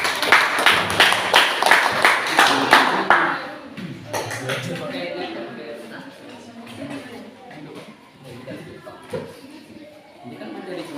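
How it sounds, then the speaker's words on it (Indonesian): Classroom group clapping for the first team, a few seconds of lively rhythmic hand claps that stop abruptly, followed by quieter room noise and scattered voices. "Kasih tepuk tangan untuk kelompok 1."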